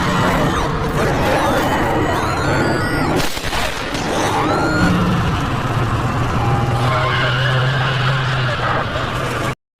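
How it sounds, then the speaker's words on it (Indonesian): A car chase in a film, with a car skidding and screeching amid crashing impacts and a sharp bang, loud and chaotic, fading into a lower sustained engine rumble. "Sempat terjadi kejar-kejaran, mobil yang mereka kendarai akhirnya tak sengaja menabrak"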